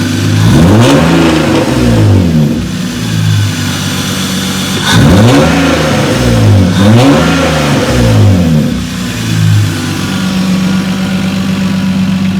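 A loud Lexus IS300 engine with a cold air intake revs repeatedly, rising and falling in pitch in several surges over a rumbling idle, close by.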